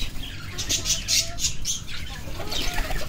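Pet doves flutter down to feed, with several quick bursts of wing flapping close by and soft bird calls mixed in.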